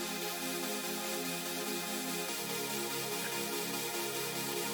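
Textured synth chords made in Serum with a comb filter hold as one thick, bright, sustained wash for several seconds, steady in level, fairly quiet, and heard alone.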